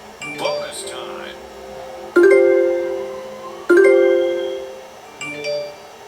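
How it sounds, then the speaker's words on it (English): Instagram message notification chimes sound from a phone indoors, about four short pinging tones at irregular intervals of roughly a second and a half. A voice is briefly audible near the start. "That noise you're hearing is someone sending me messages on Instagram."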